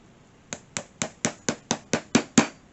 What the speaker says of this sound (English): And the hammer, that's one hole gone through.